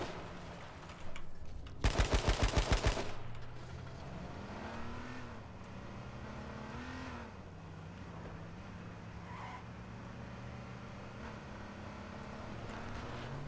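A car engine drones steadily while driving in the battle royale video game H1Z1, its pitch rising and falling. A loud burst of rapid gunfire cuts in early, then the engine continues alone.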